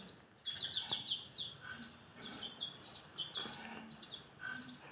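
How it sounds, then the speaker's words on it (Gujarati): Sparrows chirp around a house, quick bright bursts of high tweets repeating in clusters at close to moderate distance, fairly faint overall with no talking. "ચકલી બહુ હેરાન કરે ને."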